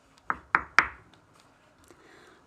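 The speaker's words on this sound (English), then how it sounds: "knocking at the cottage door." Three firm knocks on a wooden cottage door come in quick succession, sharp and close, followed by a few fainter taps in a quiet room.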